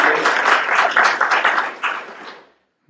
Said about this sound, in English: Can we get a round of applause for that?